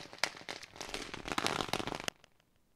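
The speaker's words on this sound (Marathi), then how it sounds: "अगदी फटाक्यांच्या आतिषबाजीमध्ये ही रॉयल एंट्री आपण पाहू शकतात." Firecrackers set off for a royal entry at a bullock cart race event, a rapid, crackling string of sharp pops and bursts that ends suddenly, leaving quiet background.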